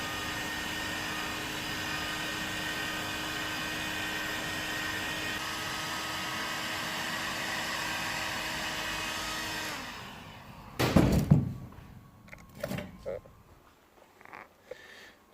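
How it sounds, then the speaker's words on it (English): A heat gun blows a steady, loud, close whooshing roar while drying BMW E36 fuel lines, then shuts off, leaving handling knocks and bumps. "And then with the heat gun, dry it."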